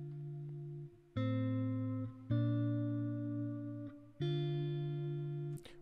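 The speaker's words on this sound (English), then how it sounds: "I laid down some chords, they sound like this." Guitar chords laid down for a young-boy-style FL Studio beat, four or five clean strummed chords changing in a slow, even sequence, moderately quiet with no talk.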